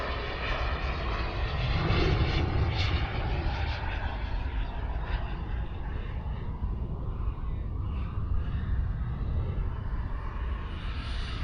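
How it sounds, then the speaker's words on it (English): An airplane with its landing gear down passes overhead on approach to land, a broad engine roar that swells and fades gradually at moderate distance. "We got the landing gear down. It's going to set up for a land."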